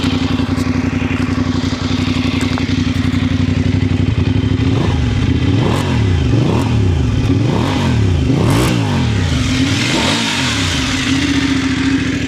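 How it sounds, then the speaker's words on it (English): A Voge DSX 900 motorcycle's engine and exhaust, a steady close idle broken by a series of sharp throttle blips that rise and fall in quick succession, then settle back. "you can hear the exhaust note on the back."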